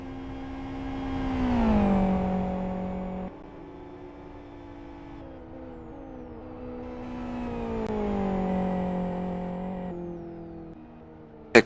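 Race cars, including a Gen R car and a GT2 car, driving on the Aston GP circuit during 24-hour endurance qualifying, engines loud and close, rising and falling through gear changes and passing with a brief sharp click at the end.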